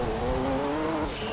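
A Nissan R390 GT Le Mans prototype race car in Gran Turismo 2 holds a steady, loud engine drone with a sustained tonal whine and slight pitch shift, alone with no talking.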